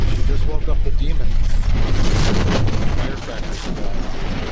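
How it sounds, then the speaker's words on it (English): Rapid bursts of firecrackers crackle and pop from a horror movie, loud and dense throughout, with voices talking over them. "Firecrackers are going"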